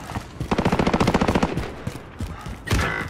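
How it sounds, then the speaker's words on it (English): Sentry gun in Call of Duty Modern Warfare firing a fast, rhythmic automatic burst of about a dozen close, loud shots, followed by scattered single shots and a final heavier blast. "Friendly sentry gun deployed."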